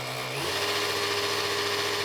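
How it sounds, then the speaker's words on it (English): A drill spins the oil pump primer on a 1963 Corvette split-window engine, a steady close whirring hum that shifts pitch and settles into a constant drone after a moment. "So now we're gonna run the pump."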